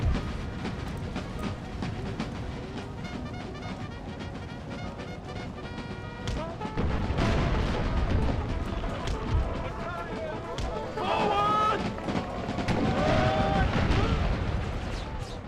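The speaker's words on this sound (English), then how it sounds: "Okay, some more explosive howitzer shots coming in here." Explosive howitzer shots in the strategy game Empire: Total War, a battle with booming impacts and crackling blasts layered over continuous battlefield din, getting louder in bursts partway through.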